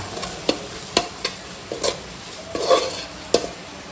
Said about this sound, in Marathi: हे सगळं टाकल्यानंतर हे सगळं मिश्रण व्यवस्थित एकत्र करायचं